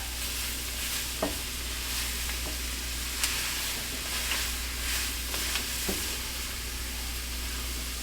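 Vegetables frying in a pan on a new GE stove for a crawfish and duck étouffée, a steady close sizzle with a few short utensil scrapes as they are stirred.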